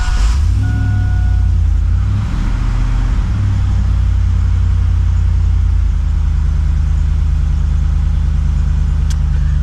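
GM car engine starting and then running, a loud low rumble that shifts and settles into a steady idle, close to the microphone with no talk.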